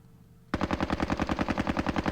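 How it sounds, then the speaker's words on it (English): Rapid automatic gunfire from the Squad Battles Winter War video game bursts in suddenly after a quiet moment, a loud, steady run of close shots with no talk over it. "that could be the tank or something firing at us"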